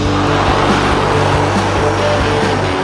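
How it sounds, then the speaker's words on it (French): A 131-horsepower New Holland T6.160 tractor pulling an Angeloni ATFS 27 plough through a field drones loudly and steadily, its engine holding an even, constant hum without pause. "Avec ses 131 chevaux, le tracteur maintient une vitesse constante, tandis que la charrue retourne la terre"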